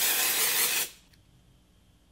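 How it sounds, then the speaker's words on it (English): Setting spray hisses onto a face in a single loud, close burst lasting under a second, then cuts off into near silence. "But I'm now gonna go ahead and spray half my face just to see a side-by-side comparison"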